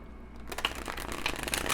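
Cards riffled and shuffled close up, a quick papery flutter that builds after a brief quiet start, with no talking.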